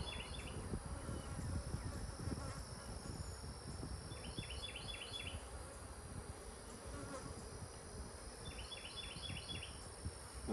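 Honey bees buzz in a dense, continuous drone at an outdoor apiary hive during a split inspection, with faint insect trills and distant bird chirps behind.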